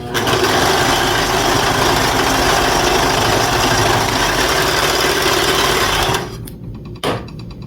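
A sewing machine stitches a vintage quilt travel bag in one long, loud, steady whirring run close by, then stops and leaves a short quiet tail with a brief clunk.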